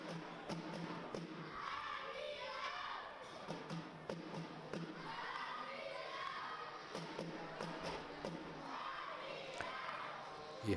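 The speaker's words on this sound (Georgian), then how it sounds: "გესმის არმიის გულშემატკივართა შეძახილებიც" Army supporters chanting in the stands at a Georgian rugby match between Kochebi and Army, a distant, rolling crowd roar that swells and fades in waves, with scattered thuds and taps nearby.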